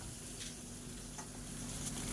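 Potatoes and fish fry in hot oil with a steady, even sizzle that holds for about two seconds and swells slightly near the end, with no voices over it.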